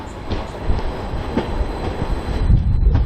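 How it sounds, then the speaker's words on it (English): A train rumbles steadily alongside, with a broad low roar and occasional metallic clanks and squeals as it rolls into a platform on the East Suffolk Line, fairly close and continuous. "the train to take me to my next destination of Saxmundham"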